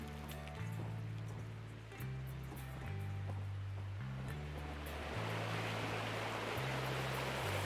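Creek water flows in the video game Gold Rush The Game, a soft continuous watery rush that swells slightly louder toward the end beneath a looping low musical soundtrack.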